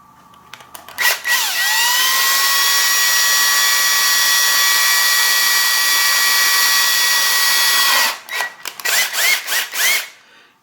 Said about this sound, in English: when the drill bit broke through, I stopped immediately and I reversed it